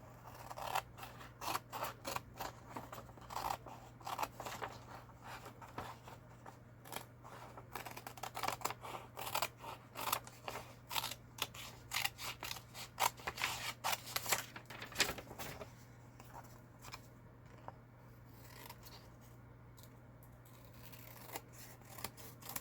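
Scissors cutting out a fabric tag, a rapid run of crisp close snips and blade clicks that slows and softens toward the end.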